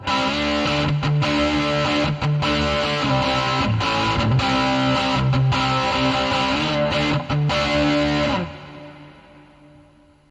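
Distorted electric guitar chords from a real amp with Amplitube hall reverb ring out, loud and continuous, then cut off and leave a fading reverberant tail.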